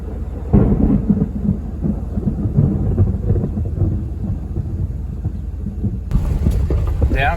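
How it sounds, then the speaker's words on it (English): Heavy rumbling thunder rolls loudly and continuously, with a sharper crack partway through over a dense, noisy summer storm background. "That old thunder cracked hard there."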